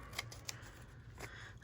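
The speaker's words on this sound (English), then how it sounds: "Let me trim this one down a little bit." Scissors trimming paper while journaling, a few quick close snips spaced apart over a quiet background, with no talk.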